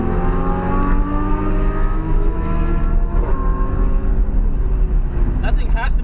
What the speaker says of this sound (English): this R8 is going crazy right now. This thing sounds insane.